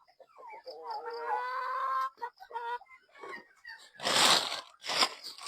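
Backyard farm chickens cluck and squawk while scrambling for feed poured into a drum, starting with a drawn-out call and breaking into bursts of scratching and flapping commotion.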